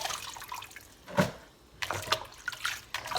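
Turnip greens sloshed around in a bowl of water make close, irregular splashes and swishes, with brief pauses between the movements.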